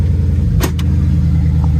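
A 2009 Mercury Marquis with a five-speed swap rolls slowly down a driveway, a steady low engine rumble held close throughout, with a couple of brief higher clicks or squeaks partway through.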